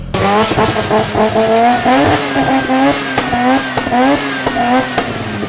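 A built Mazda RX-7 rotary engine revs hard and repeatedly on a dyno, rising and falling in pitch with a raspy, buzzing roar close by.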